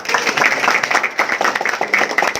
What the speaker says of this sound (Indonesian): Tepuk tangan dulu untuk Glance.